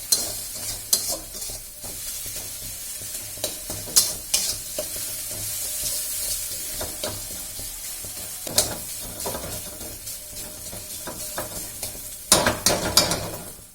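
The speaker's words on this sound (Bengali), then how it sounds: "এই দেখো, ডিম সহ মশলাপত্র সব ফ্রাই হয়ে গেছে।" Eggs and spices fry in a small amount of oil, giving a soft steady sizzle broken by repeated sharp scrapes and clatters of stirring.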